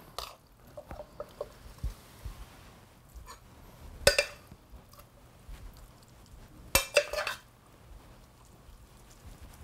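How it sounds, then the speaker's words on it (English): Cauliflower risotto is plated from a pan, with sparse metallic clinks and scrapes of utensils against the pan and plate, two sharper knocks standing out against a quiet background. "So now it's just simply a question of plating it up."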